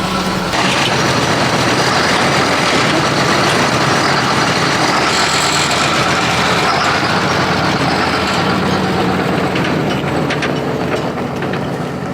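Loud, continuous mechanical rumble and rattling of a tractor engine running with a mower attached, steady throughout with clanking noise and no voices.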